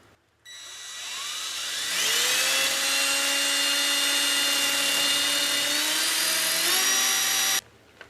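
A power drill fitted with a larger, well-worn bit spins up to a loud, steady whine and runs continuously for several seconds, its pitch dipping slightly under load, then cuts off abruptly, during garage shelf installation.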